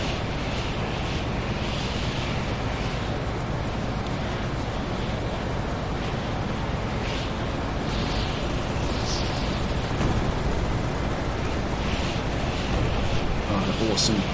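Helicopter blowing up after being shot down in the Carrier Command 2 video game, a dense, continuous rumbling roar of explosions and blasts sustained at steady loudness, with game effects and a voice talking over it.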